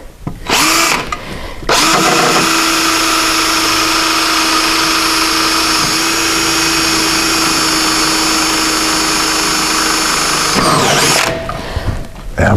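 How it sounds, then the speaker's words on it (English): Power drill boring pilot holes to fit a rally sump guard on a car, a loud, sustained whine of about nine seconds after a short start-stop burst, then spinning down. "There we go, that's our pilot holes."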